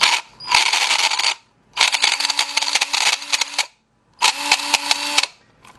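A Durabuilt 18 volt cordless drill runs under load in low gear, three loud whirring bursts with a rattling, clicking texture, separated by brief silences, close up.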